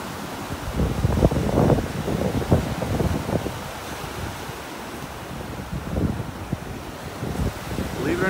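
Wind gusts buffet the microphone on a beach in North Naples, Florida, over the continuous wash of ocean waves, giving a loud, rumbling roar throughout.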